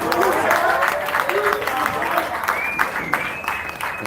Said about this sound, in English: I think we should have a little round of applause for the two-time world heavyweight champion.